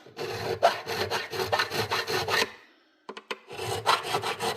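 Guitar fret wire being filed to remove factory nicks and burrs, a close rasping rhythm of quick back-and-forth strokes, a short pause with a few light taps, then more filing.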